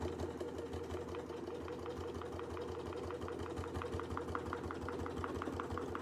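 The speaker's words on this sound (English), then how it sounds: "I'm going to sew the entire way, all the way down back to the bottom" A sewing machine sews a long seam in black fabric, its fast, even needle rhythm running steadily and fairly quietly from start to finish.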